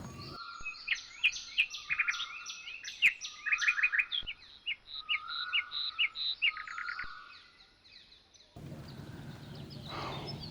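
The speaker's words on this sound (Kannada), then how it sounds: "ಒಂದು ತಾಯಿ ಹಕ್ಕಿ ತನ್ನ ಮರಿ ಹಕ್ಕಿಗೆ ಮಗು ಮಗು ಎಂದು ಕರೆಯುತ್ತಿರುವಂತಿದೆ" A bird calls from a tree in quick bursts of bright chirps and tweets, loud and close, pausing between phrases before the song gives way to a low rumbling background near the end.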